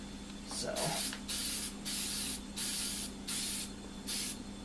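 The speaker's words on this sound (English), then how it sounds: "So what we're going to do is we're actually going to spray paint this" Several bursts of aerosol spray paint coating a concrete garden statue, each hiss lasting about half a second with short gaps between, close and fairly loud over a low steady hum.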